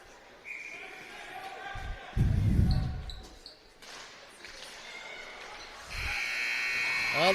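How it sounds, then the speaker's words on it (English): A horn-like buzzer sounds in an ice rink at the end of a youth ice hockey game, a loud sustained tone rising over the arena murmur and crowd noise near the close. "Well, the buzzer sounds, and Rosemount Irish win this one 3-2."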